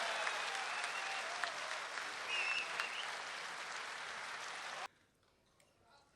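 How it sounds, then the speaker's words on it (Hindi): A large audience at a poetry recital in Dubai, 2014, bursts into loud, sustained applause to welcome poet Rahat Indori, with a few whistles over the clapping before it cuts off abruptly into near silence. "जोरदार तालियों के साथ बुलाइएगा"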